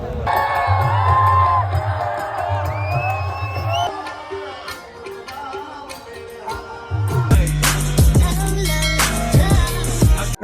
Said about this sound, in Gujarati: જોરદાર તાળીઓના ગણગાથી વિવેકભાઈ સાંચલા.